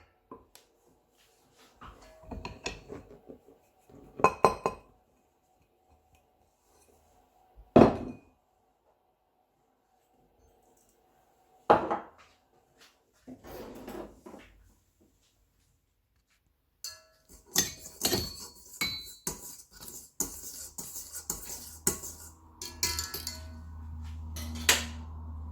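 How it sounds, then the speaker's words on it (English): Flour being mixed with salt in a bowl for bread dough, heard as scattered utensil knocks and scrapes separated by long silences, growing into denser clatter near the end. "start with the flour and mix with the salt"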